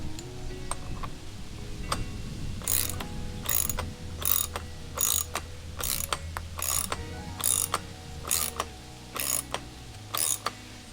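Ratcheting socket wrench tightening a blade onto a Stihl FS91 string trimmer, a string of quick metallic ratchet clicks in short repeated strokes at close range, with an occasional mechanical clunk.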